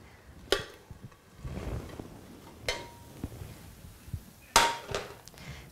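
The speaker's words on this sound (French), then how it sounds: "On va maintenant tourner la râpée de pommes de terre." Grated potato rösti flipped over in a pan, giving a few separate sharp clanks and scrapes of utensil against metal, spaced irregularly over a quiet kitchen background.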